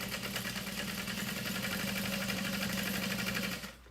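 Sewing machine stitching along the folded outside edge of a saddle bag, a fast, even mechanical whir running steadily at close range, then stopping abruptly near the end.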